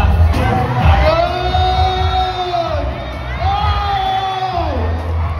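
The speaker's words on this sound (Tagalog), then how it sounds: "Kaya naman, palakpakan natin si performer number 6." A crowd at a mall show cheers and whoops loudly for a performer, with shouts and yells rising in two long swelling waves over a dense, continuous roar of voices.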